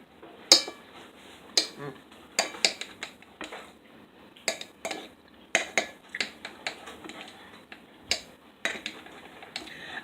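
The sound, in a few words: slicing keto French toast bread pudding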